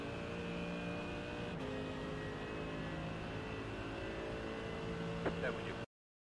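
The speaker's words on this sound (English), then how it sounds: "Flying up the hill with that power of the Merc." A Mercedes AMG GT3 EVO racing engine at Road America in iRacing, a steady high-revving drone held under load with a brief gear change, continuous and close under a voice, then cutting off abruptly.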